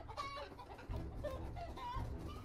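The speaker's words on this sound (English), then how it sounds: "And the chickens attack." Chickens clucking steadily in the battle game TABS, a continuous close chorus of short cackling calls with a low rumbling game background underneath and no voices.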